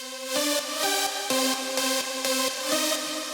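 An EQ-boosted synth pluck layer, brightened for extra sizzle, plays a steady rhythmic pattern of short bright notes over a sustained tonal bed, with crisp high-end shimmer on each hit and no voices.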